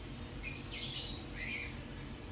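A stray bird squawks outside a new house, several faint, harsh calls spaced over the span against a steady background hum.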